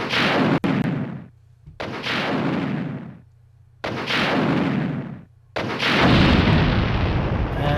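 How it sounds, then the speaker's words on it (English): In the Nintendo 64 version of Resident Evil 2, an enemy is blown apart by loud, booming explosion effects: four heavy blasts, each decaying over a second or so, separated by brief near-silent gaps. "he is now finally dead, because nothing can survive being exploded into pieces like that"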